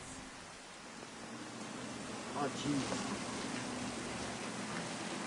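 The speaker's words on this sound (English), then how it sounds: "It's a lousy night. Yeah, too much rain." Steady rain falls on a lousy night, a constant hiss filling the whole clip, while a man briefly exclaims partway through.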